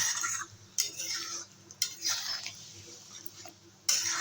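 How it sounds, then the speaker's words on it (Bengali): A spoon stirs thick masala with cashews and raisins in a pan, making several sharp scraping strokes at uneven intervals over a faint background hiss. "এই সময় কিন্তু মশলাটা অনবরত নেড়ে চেড়ে রাখতে হবে না হলে কিন্তু নিচে লেগে যাবে"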